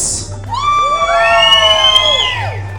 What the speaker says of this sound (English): I want you to cheer as loud and hard as you can for the Flapper stage right!